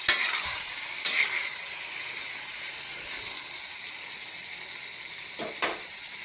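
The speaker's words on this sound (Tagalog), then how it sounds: "At syempre, imekos-mekos natin itong ating pork, mga boss. Gumagalaw itong ating kawali." Pork for adobo sizzles in a frying pan, with a couple of sharp scraping stirs near the start and again near the end over a steady frying hiss.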